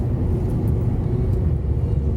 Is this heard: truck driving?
yes